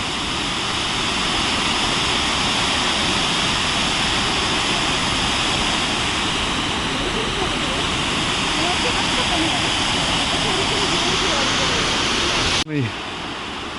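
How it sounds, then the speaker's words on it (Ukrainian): A small waterfall in Johnston Canyon roars steadily and close by, a dense broadband rush that holds constant throughout before cutting off abruptly near the end. "Тут теж водопадик цікавий."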